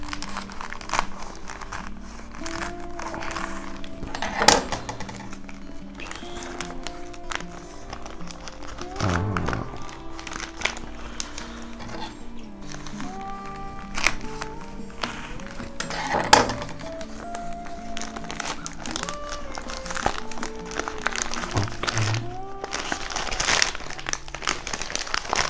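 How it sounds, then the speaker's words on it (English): Plastic wrapping on a DHL courier parcel is cut and crinkled, giving repeated crackling rustles, small snips and handling knocks close to the microphone, with faint speech at times. "I need to cut this plastic."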